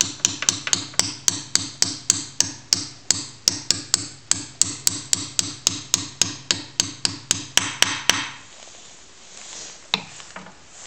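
Rapid, steady hammer blows knock a bushing out during a tie rod replacement, about three strikes per second for eight seconds, then a pause and a couple of lighter taps; close and sharp, with no talk.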